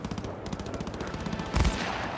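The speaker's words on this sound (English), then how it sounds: "Some gunfire." Rapid automatic gunfire rattles in dense bursts during a firefight in the video game Cyberpunk 2077, loud and continuous, with a heavier blast near the end.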